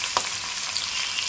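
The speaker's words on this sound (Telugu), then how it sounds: "మనం తీసుకున్న ఈ మసాలా దినుసులన్నీ ఫ్రై చేసుకోవాలి" Spices, green chillies, onions and fenugreek leaves frying in hot oil for a Rayalaseema gongura curry, a steady close crackling sizzle with a brief stir clink, no voices.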